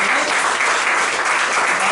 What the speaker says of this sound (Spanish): Démosle una fuerte ofrenda de palmas al Señor.